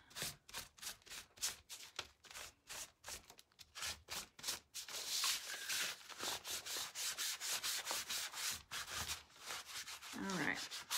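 Painted wood for a farmhouse shadow box is rubbed down by hand in steady back-and-forth strokes, close and fairly quiet, the rhythm quickening and growing denser in the second half.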